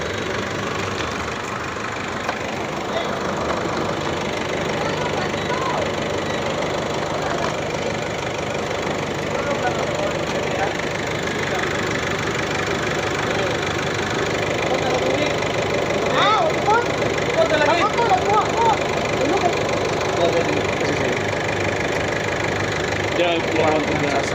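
A repaired engine with a discharged battery runs steadily after being started, a continuous mid-pitched hum with faint knocking throughout, with people talking over it.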